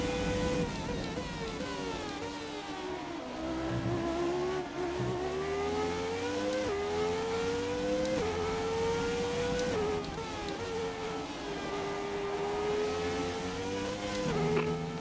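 Classic Formula 1 race cars in a racing video game, engines whining and rising through the gears as cars pass, with a continuous loud drone and overlapping pitches from other cars off in the distance.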